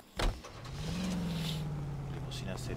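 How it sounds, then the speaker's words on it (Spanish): Car in the video game L.A. Noire, a series 75 limousine: a steady low engine drone that rises slightly then holds, with a brief thump at the start and voices over the top. "Nos robamos este coche."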